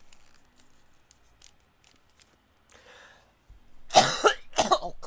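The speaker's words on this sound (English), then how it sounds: "Stupid cough." Several sharp, loud coughs from one person close by, bunched near the end, after a quiet stretch of faint paper rustles and a breathy sound.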